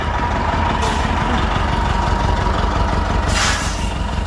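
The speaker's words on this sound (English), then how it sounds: "I'm being chased by a truck." A truck rolls past very close at the Spring Carlisle car show, its engine rumbling loudly with a couple of sharp hissing air bursts, no talking.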